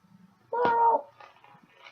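A house cat gives a single drawn-out meow, clear and fairly close in a quiet indoor room, followed by faint soft rustling.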